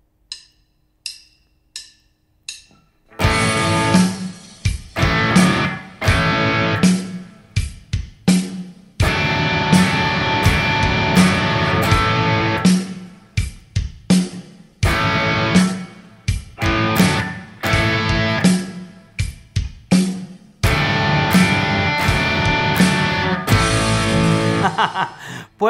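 A driving electric guitar riff plays loud and choppy over a full backing track with drums, after a few sparse clicks at the start.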